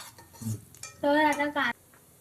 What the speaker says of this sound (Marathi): भाजी सगळी आता मी थोडी टाकते आणि परतून घेते